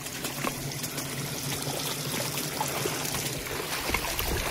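Shallow flowing water in a stream at Ekole Valley in Tamhini Ghat, Sahyadri hills, with steady trickling and sloshing from feet wading through it, continuous and moderately quiet.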